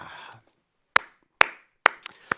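Four sharp, separate hand claps ring out close and clear after a short pause, spaced roughly half a second apart with a tiny extra tap near the end, in an otherwise quiet live studio broadcast.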